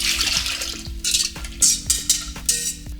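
Ice cream mix for coconut cream protein ice cream is added to a pan on a stove over medium heat, with repeated clinks and scrapes of utensil on pan over a steady background hum.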